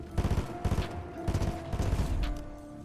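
Rapid bursts of gunfire in a Fortnite solo finals fight, video game audio, with clustered shots firing in quick succession and a steady tonal hum underneath, loud and continuous with no talking.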